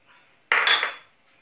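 Flour and baking powder stirred in a bowl for a Romanian cheese, chocolate and raisin Easter cake, a single brief scraping, clattering burst of utensil against the bowl, close and fairly loud.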